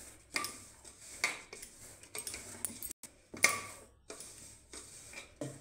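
Flour and salt are stirred in a bowl for patishapta batter, a spoon clinking and scraping against the bowl in a series of uneven taps and rattles, close and fairly quiet, with no talk.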